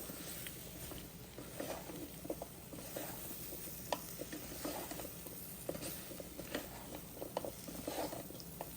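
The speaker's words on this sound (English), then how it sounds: "Just saute the vegetables in the sambar powder." Vegetables sautéing in roasted sambar powder for mooli sambar, with a soft, steady sizzle and scattered spoon scrapes and stirring taps against the pan, fairly quiet throughout.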